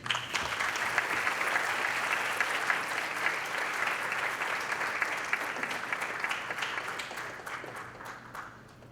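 Sustained audience applause following a lecture at a university forum in Peru, a dense, steady wash of many hands clapping that holds for several seconds, then gradually thins and softens toward the end.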